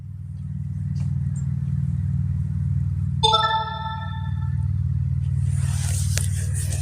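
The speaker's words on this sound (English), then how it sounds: "So there's cars going by" A steady low rumble of traffic passing nearby, with a brief tonal squeal partway through and a rising hiss near the end.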